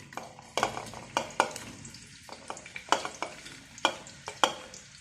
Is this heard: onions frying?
yes